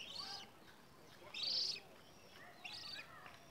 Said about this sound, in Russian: Вон там две птички разговаривают.